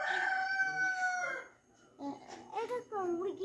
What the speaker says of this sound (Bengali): এটা তো মুরগি ডাকছে